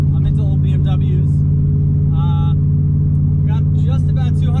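A turbocharged LS-swapped BMW E36 running rich drones loudly and steadily up close, with a deep constant engine hum while voices talk intermittently over it.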